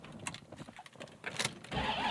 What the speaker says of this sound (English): A little bit of a rougher idle, a little bit of that vibration, that's due to the mild cam.